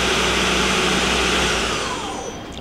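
A Doosan Lynx 220A CNC turning center's spindle spins at 3750 rpm, its chuck jaws pushing air in a loud, steady whoosh that begins to wind down toward the end.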